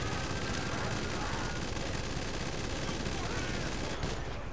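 Dense, continuous bursts of rapid gunfire in GTA V Online, loud and unbroken throughout, with a slight drop near the end.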